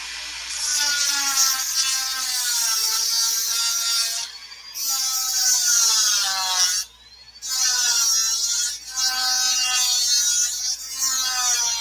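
A Dremel rotary tool with a sanding drum grinds against wood in a high, whining buzz that rises and falls in pitch, with two brief pauses where the tool lifts off.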